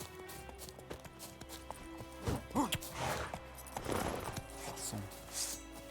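Roach the horse gallops in The Witcher 3, a steady rhythmic clip-clop of hooves with a few heavier thuds, and someone speaks briefly over it.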